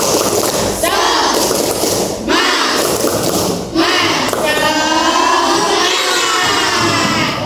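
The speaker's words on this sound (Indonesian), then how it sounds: "Oh, sekali lagi, tepuk semangat." A classroom group of children doing a 'tepuk semangat' spirit clap, rhythmic bursts of clapping mixed with shouted chanting voices, loud and close, with a brief pause midway.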